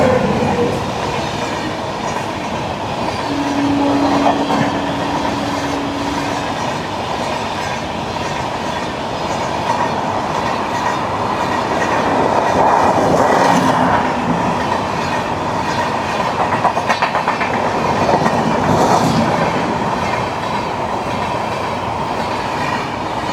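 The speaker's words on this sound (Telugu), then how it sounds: "ఇప్పుడు రెండో ఓవర్టేక్ చెన్నై నుండి హౌరా వెళ్ళే మెయిల్." The Chennai–Howrah Mail overtakes on the adjacent track with a sustained loud rumble and rolling clatter of wheels, punctuated by a brief tonal squeal and scattered clanks as the coaches pass close by.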